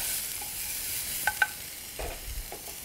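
Green chilies and onions sauté in a pan to caramelize, giving a steady soft sizzle with two sharp spatula clicks near the middle and a few low scraping stirs toward the end.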